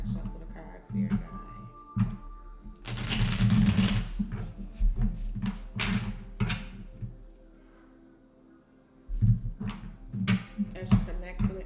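Tarot cards being shuffled by hand, a burst of riffling flutter followed by softer scattered card slaps and taps, with someone speaking calmly over much of it.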